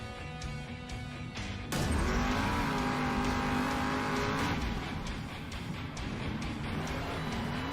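The Megalodon monster truck revs its engine at the start of a run at a Steel Titans Sports League event in Glendale. A sudden surge lifts a sustained roaring engine note that rises and holds.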